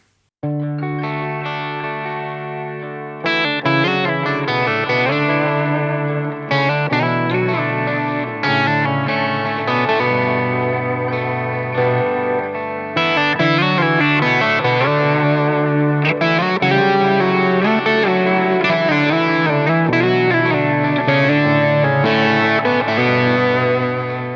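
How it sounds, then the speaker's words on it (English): An electric-sounding guitar in DADGAD tuning rings out octave patterns with a shimmering, 12-string-like doubled tone, heavy chorus and distortion, sustained notes changing every few seconds, loud and alone. "it makes it sound a little bit like a 12-string guitar when you play these octaves together"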